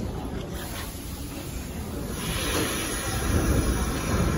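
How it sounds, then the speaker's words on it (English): An R46 subway train running on the G line rumbles and hisses along the track, a loud continuous roar of wheels and rail noise that grows heavier over a few seconds. "My R46G train."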